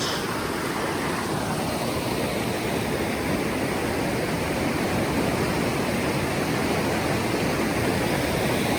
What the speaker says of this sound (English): Here's an up close of the Suiattle River and the bridge.